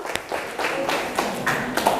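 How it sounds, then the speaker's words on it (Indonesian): Classmates in a hospitality class give a short round of clapping after a correct answer, a few uneven bursts of hand claps close by in a small room. "Oke, jadi tepuk tangan"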